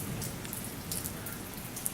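Steady rain patters on surfaces outdoors, a dense even hiss with scattered brighter drop hits, heard alone without voices.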